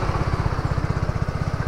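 A motorcycle engine runs just after a cold start, a close, steady idle with a fast regular thumping pulse throughout the short stretch.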